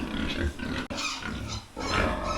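Pigs in a piggery grunt and snort in rough bursts close by, several overlapping noisy calls with a brief pause between them.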